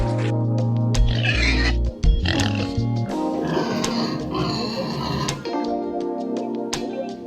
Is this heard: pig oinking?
yes